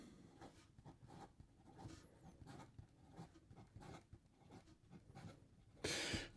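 Fountain pen with an Edison Jameson number 8 extra fine nib writing quickly on paper, a soft close scratching in short repeated strokes, faint throughout, ending with a brief louder rustle.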